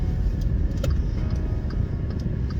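Steady low engine hum of a manual car running, with light ticking sounds over the top, continuous and fairly close with no talking.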